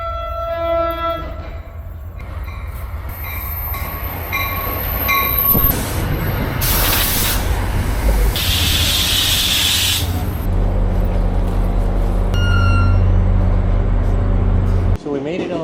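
A train rumbles loudly nearby with heavy low-end roar, sounding its horn in several tonal blasts and sustained notes, with squealing wheels and rushing noise bursts in between, continuing to the end.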